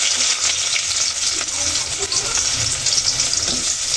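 Onions sizzling and frying in hot oil in a home kitchen pan while chicken curry is cooked, a steady loud crackling hiss throughout with occasional stirring scrapes, no talking.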